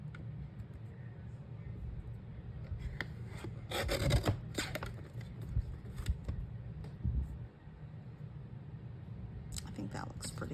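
Paper is trimmed for a white and gold congratulations card with close, dry rasping scrapes that cluster in the middle, over a low background hum and murmured speech.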